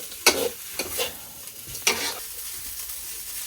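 Vegetables being stir-fried in a pan, with soft sizzling under a few scraping stirs of a utensil, close and moderately loud, with no talking.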